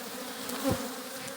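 Honeybees buzz steadily in a dense, close swarm on a hive frame in November, a continuous low drone with one louder bee passing near for a moment.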